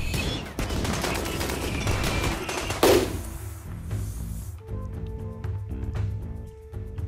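Rapid turret gunfire during a siege in RimWorld, a dense, continuous stream of sharp shots. A heavy burst hits near the middle, then the fire thins to scattered, distinct pops.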